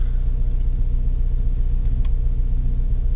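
A Volkswagen MK7 Golf engine idles after a cold start with a steady low rumble, continuous and close, with no voices.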